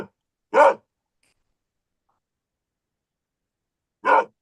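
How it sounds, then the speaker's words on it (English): A dog barks twice in a quiet room, two short sharp isolated barks about three and a half seconds apart with silence between. "barking at nothing."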